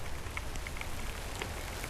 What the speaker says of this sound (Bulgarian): Ето пак почва да вали.